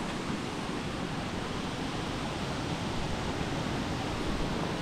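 Savdav waterfall pouring down in a steady, dense roar of falling water, continuous and fairly close with no voices.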